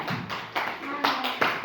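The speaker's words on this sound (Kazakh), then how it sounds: "Шапалақ ұрып қойықшы" Children in a classroom clap their hands in short bursts, four distinct rounds of quick, fairly close applause over about a second and a half.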